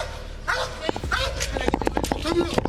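Police K-9 dog barks and yelps in short excited bursts at close range, mixed in with people shouting.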